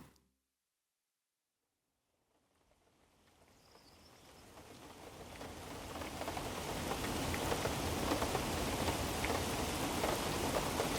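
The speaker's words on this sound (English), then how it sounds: "Rain falls steadily behind you." Steady rain falls on a stone step by a back door in the evening, starting after a second of silence and swelling into a dense, even hiss that holds at full strength with no voices.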